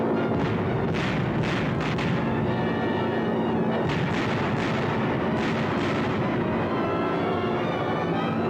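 Bombs from a B-24 bomber raid on Pantelleria exploding as a continuous rumbling barrage of heavy blasts and booms, loud and dense throughout with no pauses.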